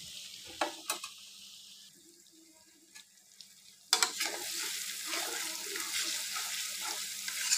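A pan of small native fish curry gently stirred, soft scattered clinks and scrapes at first, then a louder continuous sizzle with intermittent stirring sounds close by.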